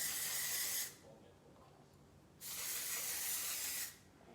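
A hand spray bottle misting hair in two long bursts, each roughly a second and a half of steady, close hiss separated by a quiet pause.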